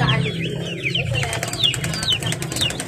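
Small chicks raised as backyard poultry peep in a steady, busy chorus of short rising and falling calls, close by and continuous with no voices.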